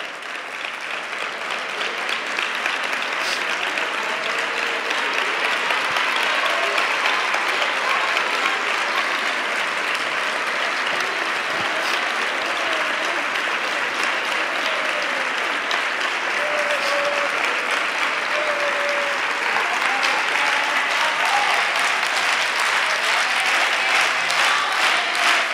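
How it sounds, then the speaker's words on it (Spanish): A carnival proclamation audience in Isla Cristina gives a long, loud, sustained round of applause, dense and even throughout, with no speech over it. "que suba para poder homenajearla con un fuerte aplauso"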